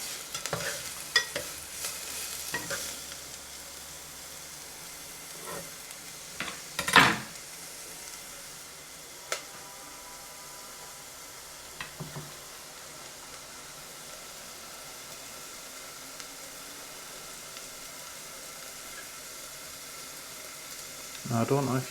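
Food sizzles steadily in a hot frying pan, with occasional scraping and clinks of a utensil stirring against the metal.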